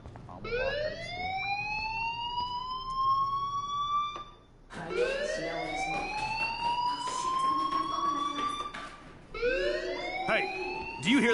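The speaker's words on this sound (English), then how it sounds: "Hey, do you hear that fire alarm?" A wailing fire alarm in the video game Life is Strange rises and falls in three long sweeping cycles, loud and continuous with a brief dip between cycles.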